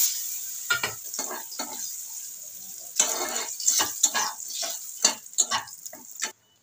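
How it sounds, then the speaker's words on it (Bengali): Lentil dumplings (bori) sizzle and crackle in hot oil nearby, with bursts of spattering as they are stirred and turned. "ডালের বড়িগুলো দিয়ে দিচ্ছি, ভেজে নেব"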